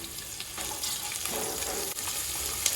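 Green chilies frying in a pan for tomato rice, a continuous soft hiss and sizzle with faint stirring scrapes, steady and close throughout with no talking.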